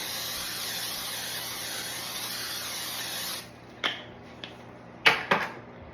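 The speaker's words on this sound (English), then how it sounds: "Now I've got my 13 by 9 inch pan, and I'm just going to spray it so nothing sticks." Non-stick cooking spray hisses onto a 13 by 9 inch baking pan in one long steady burst, then stops, followed by a few short clattering knocks of the can and pan.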